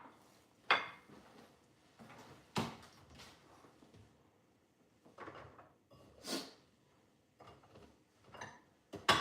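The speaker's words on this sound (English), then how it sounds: "Okay, I'm going to have to put this in a bowl." Dishes and utensils clink and knock in a kitchen as apple pieces are put into a bowl, with scattered sharp clatters and softer handling sounds at close range, fairly quiet overall.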